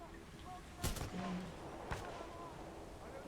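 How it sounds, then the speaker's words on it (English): Two short bursts of gunfire in the video game Titanfall 2, sharp cracks over a busy game soundscape with speech mixed in, moderately loud. "Hope you like bullets, because you're getting a few of those."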